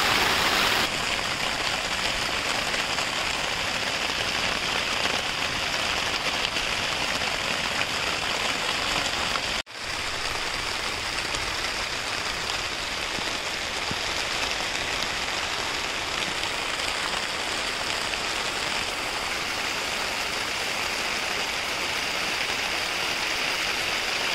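Steady rain pours down in a village, a dense, even hiss of drops on surfaces that continues unbroken for the whole stretch, with one brief dropout partway through and no voices.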